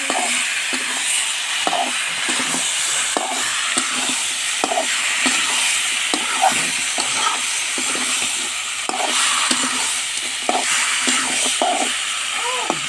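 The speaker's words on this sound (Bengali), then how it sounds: "মাংস ভাজা हो रहा है।" Meat browning in oil with cumin and plenty of garlic in a pan, a continuous close sizzle broken by repeated scraping knocks of stirring at an uneven rhythm, with no talk.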